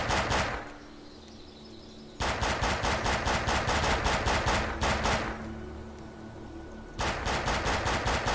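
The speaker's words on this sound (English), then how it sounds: "So let me just shoot the floor real quick." Bursts of rapid automatic gunfire in the video game Defiance, shots fired into the floor, three long strings of close, loud, evenly spaced rounds separated by short pauses.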